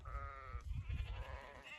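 Sheep and lambs out grazing bleat nearby, with a long wavering bleat followed by another, over low rustling.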